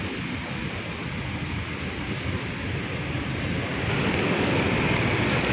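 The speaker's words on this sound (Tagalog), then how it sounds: "ito yung mabubungad sa inyo, yung fountain" Steady broadband splashing of a water fountain in an outdoor city plaza, a continuous wash of falling water that swells slightly louder toward the end, with no voices.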